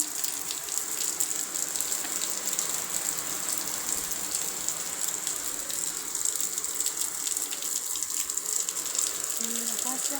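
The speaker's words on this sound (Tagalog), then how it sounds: "Lakas-lakas ng ulan. Mahangin pa." Heavy rain in windy weather pours steadily outdoors, a dense, even hiss with rattling, ticking drops on nearby surfaces, carrying on unbroken for the whole stretch with no speech.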